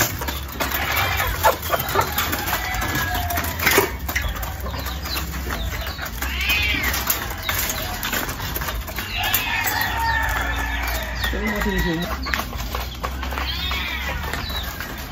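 Young chicks at a home cheep and peep in repeated high, thin calls close by, with steady background noise throughout.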